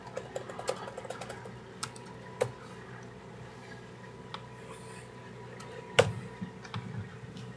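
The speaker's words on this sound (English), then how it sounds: "while you're typing that stuff in there" Typing on a computer keyboard, irregular clicks and occasional sharper keystrokes over a quiet room background.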